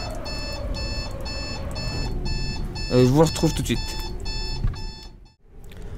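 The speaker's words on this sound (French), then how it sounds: "c'était le réveil qui sonne" An alarm clock rings loudly in rapid repeated electronic pulses for several seconds, close by, while someone speaks over it before it cuts off.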